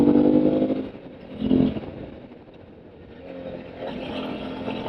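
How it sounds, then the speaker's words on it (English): A motorcycle on a twisty road downshifting and then accelerating, with engine bursts that swell, dip briefly and build again under steady wind rush. "I downshift and then I hit it."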